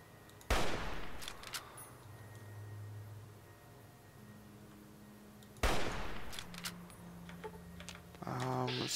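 Two loud bolt-action rifle shots in Fallout New Vegas, one near the start and one midway, each with a long echoing tail over low game ambience, followed by clicking mechanical reload sounds at the end.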